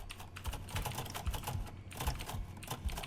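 Rapid, steady keyboard typing from the typing video game Waxback: Final Sentence, a dense run of close, crisp key clicks with brief pauses between bursts and no voices.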